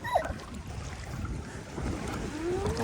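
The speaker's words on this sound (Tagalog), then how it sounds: "Oh, big wave oh." Big ocean waves wash and rumble at a family beach outing, a broad swelling surge with wind buffeting the microphone, building louder toward the end.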